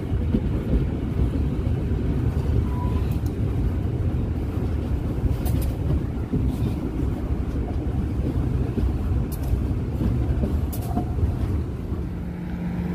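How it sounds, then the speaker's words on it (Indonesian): Steady low rumble of a local passenger train arriving and stopping at Cibatu station, with faint clanks and squeals over continuous rolling noise. "kereta api lokal saat ini sudah tiba dan berhenti di stasiun Cibatu jalur 1"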